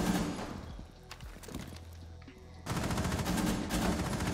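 Gunfire in Rainbow Six, rapid bursts of automatic fire at the start and again in the second half, loud and dense, with no talking heard.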